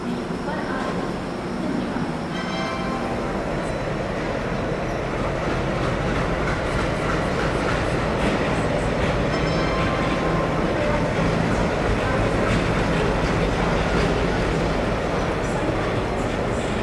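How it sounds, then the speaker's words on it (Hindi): The Howrah Rajdhani Express pulls out of a station in India with a steady heavy rumble and rhythmic clickety-clack of wagon wheels, loud and close throughout, with someone speaking over it. "इधर अपनी इंडिया की पहली राजधानी डिपार्ट करती हुई हावड़ा राजधानी जो है यहाँ पर डिपार्चर लेती हुई हावड़ा राजधानी"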